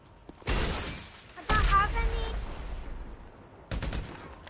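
A grenade launcher fires in a video game, three loud bursts spaced a second or two apart, each a sharp booming blast trailing off into rumble, with voices talking around them.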